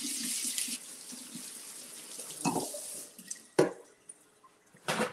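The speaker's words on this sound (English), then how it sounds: "I'm just going to give these a quick little rinse since they're already sliced" Tap water running over sliced mushrooms being rinsed at a kitchen sink: a loud splashing stream at first, then softer trickles broken by a few sharp splashes and drips.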